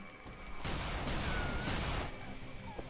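Gunfire from a Dead Island video game battle, a dense burst of overlapping shots lasting over a second, loud and close, with a faint voice underneath.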